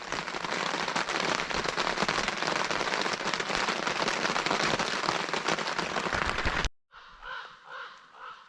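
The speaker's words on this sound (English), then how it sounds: "The rain's let up just a little bit." Rain falls outdoors in a steady, dense patter for several seconds, close and loud, then cuts off abruptly to quieter ambience with faint bird calls.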